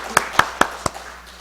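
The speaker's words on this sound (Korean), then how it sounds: "우리 축하하며 감사하는 박수 한번 하겠습니다." Four sharp, evenly spaced hand claps from a church congregation during a Sunday worship service, fairly close and fading quickly into a quiet room.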